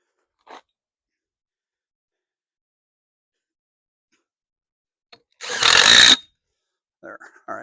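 A power drill drives a screw into a wooden fence in one short, loud whirring burst after near silence, followed by a few faint clicks and rustles.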